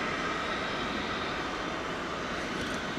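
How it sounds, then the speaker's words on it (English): An American Airlines plane landing at DFW Airport gives a steady, loud, broadband engine roar that holds evenly throughout, with no voices. "That plane came in pretty low, that plane that just landed there."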